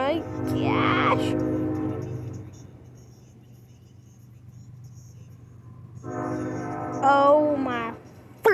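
A train in a night-time horror scene sounds its horn in long, loud blasts, with a low steady rumble carrying between them as it moves back and forth; a second rising, wavering horn call comes later.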